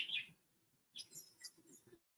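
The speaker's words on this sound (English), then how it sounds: "Can you hear the birds? The birds are singing." Birds chirp outdoors near a veranda on a quiet day, a few faint, distant, high-pitched calls at the start and a scattered burst of chirps a moment later with soft gaps between, and no talking.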